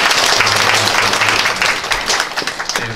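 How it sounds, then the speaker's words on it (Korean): Church congregation applauding to welcome new members, a steady, loud wash of clapping from many hands that thins slightly toward the end, with a low voice murmuring beneath. "네, 박수로 한번 더 환영하겠습니다."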